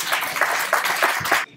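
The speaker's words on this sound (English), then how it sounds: "let's give a big round of applause for William" An audience applauds a conference speaker at a TensorFlow London event, with brief, dense clapping that cuts off abruptly.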